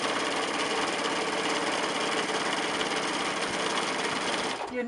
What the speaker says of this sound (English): So I'm just going to stitch from here to here.